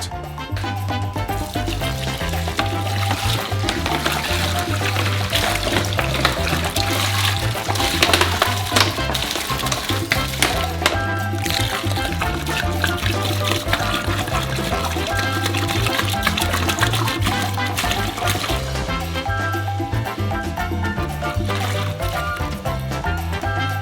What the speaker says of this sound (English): But now you will need a lot of water, 70 liters. To make it easier to mix, first pour half of the water out.